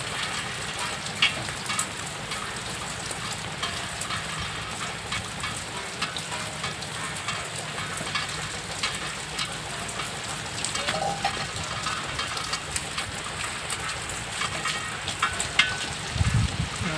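Steady rain falls throughout, a dense even hiss with occasional louder patters, and no voices.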